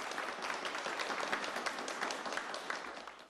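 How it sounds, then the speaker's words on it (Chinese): Audience applause for students' music performance at the Princess Galyani Vadhana Institute of Music in Thailand, a continuous crowd of clapping hands at steady volume, tapering slightly at the end. "彭丽媛为学生们的精彩表演鼓掌"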